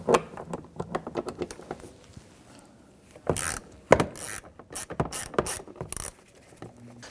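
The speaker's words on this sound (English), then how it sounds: "we're going to use a 10mm socket extension and a 1/4-inch ratchet" A 1/4-inch ratchet with a 10mm socket on an extension removes door panel bolts on a 2007-2014 Cadillac Escalade, with rapid close clicking in bursts and some clattering handling noises, and no talking.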